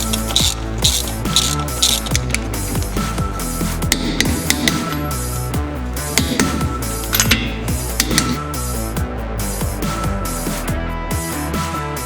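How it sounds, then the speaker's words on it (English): Torque wrench and ratchet tightening wheel spacer nuts to 89 foot-pounds on a Subaru, close and loud with a steady rapid clicking and occasional sharper metallic taps, with no talking. "And then we'll come back through with the torque wrench and get them all the way down to the recommended"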